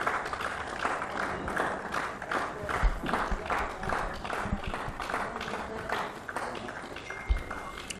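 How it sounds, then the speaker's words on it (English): Warm applause from a cricket crowd as a batsman walks off after a big innings in an over-50s match between New Zealand and Australia, steady clapping sustained throughout with a few louder claps standing out. "he'll get a very warm round of applause as he comes off"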